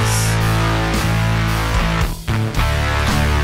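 A dense, loud guitar loop plays with driving chords and a steady beat, full and compressed, with a brief dropout near the end before it resumes.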